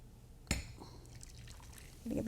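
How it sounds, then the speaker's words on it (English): Yakni, a yogurt-based Kashmiri sauce, is poured into a dish in a soft, faint liquid trickle, opening with a sharp knock and ending as a voice begins. "so I'm going to pour it into a dish."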